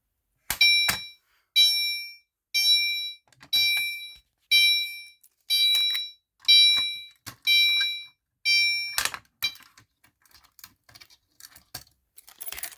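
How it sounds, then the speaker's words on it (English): Fire alarm triggered by pulling its handle down, sounding as eight loud, regular electronic tone bursts about once a second, then stopping, followed by light clicks and handling noises. "pull it down, sets off the fire alarm"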